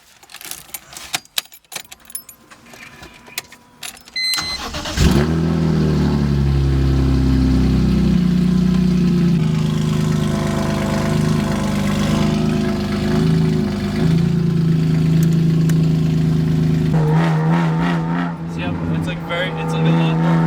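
A BMW M3 GTR fitted with race headers starts up after a brief jingle of keys. The engine catches loudly and settles into a deep, steady idle, with a slight rise in revs near the end.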